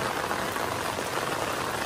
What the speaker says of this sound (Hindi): देहरादून में देख सकते हो कितनी भयंकर बारिश आ रही है